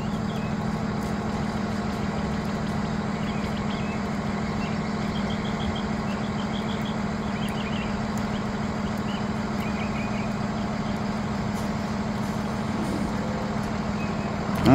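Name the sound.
school bus pulling away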